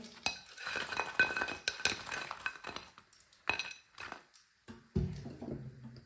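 Fried chicken pakoras go onto a plate with a series of clinks and scrapes of utensil against dish, light taps spaced irregularly, close and fairly quiet, ending in a heavier clatter.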